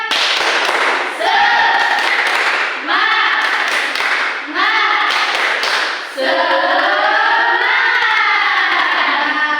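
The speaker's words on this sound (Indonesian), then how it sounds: "Tepuk semangat terlebih dahulu ya." A class of third-grade schoolchildren performing a rhythmic spirit clap, loud patterned bursts of hand claps mixed with their chanting voices in a classroom, repeated in several phrases.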